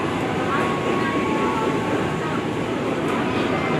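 A KRL Commuterline electric train rumbles steadily through a station, a continuous loud rolling roar with a faint tonal hum, no clear voices above it.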